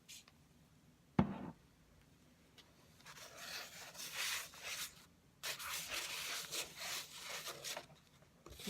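A card spreads paint across a surface with soft scraping and smearing strokes, close and quiet, after a single sharp tap, building into longer rubbing passes toward the end.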